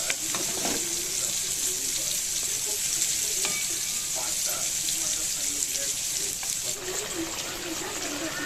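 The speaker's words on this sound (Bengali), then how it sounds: "ভালো করে আলুর সাথে নেড়ে চেড়ে মিশিয়ে দেবো" Sliced ridge gourd and potatoes being stirred and tossed in a pan of hot oil for a vegetarian Bengali dish, giving a steady close sizzle with scraping utensil strokes throughout, no voices over it.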